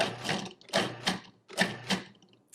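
A food processor motor whirs in short, close bursts, switched on and off about four times with brief pauses between.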